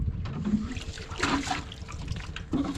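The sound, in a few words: water filling a vessel from a tubewell tank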